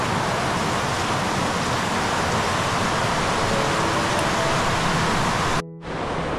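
Steady, dense rain pours over a dark, flooding street, a loud continuous hiss throughout that cuts off abruptly near the end.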